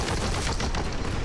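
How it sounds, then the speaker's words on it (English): Enemy gunfire in the video game Boltgun, a dense loud burst of rapid shots and booms packed together with no gaps, close and dominant with no voices. "Oops, someone's still shooting."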